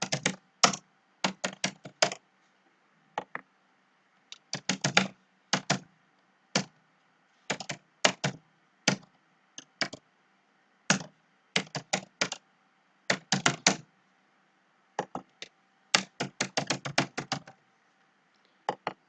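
Card payment details being typed on a computer keyboard, with close, crisp key clicks in irregular bursts and brief pauses over about nineteen seconds, with no talking.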